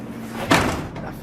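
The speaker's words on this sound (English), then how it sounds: "fucking door, I hate it." A door slams once with a sharp thud near the middle, set against low indoor room noise where a snowblower is being repaired.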